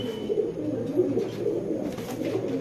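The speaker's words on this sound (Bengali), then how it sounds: "এটা হচ্ছে একটা নর কবুতর" A male pigeon coos in repeated soft, throaty burbles, close by and steady, with quieter bird sounds behind.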